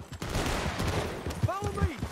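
Rapid gunfire in the Western action game Red Dead Redemption 2, a brief dense volley of shots over a noisy background, with voices shouting through it.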